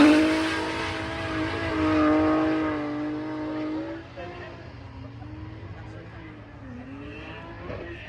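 A 300-horsepower Mazda MX-5 race car with a 1.6 turbo engine runs on the Castle Combe circuit, its loud buzzing engine note sliding lower as it passes, while a commentator talks over it.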